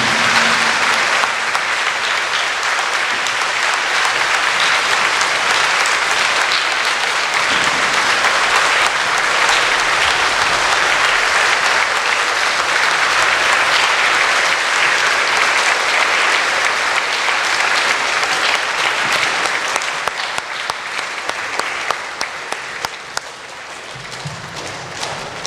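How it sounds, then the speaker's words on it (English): Sustained, loud applause from a school student body and audience honoring veterans at a Veterans Day program, steady dense clapping for about twenty seconds before thinning out near the end. "Let's give them another big round of applause."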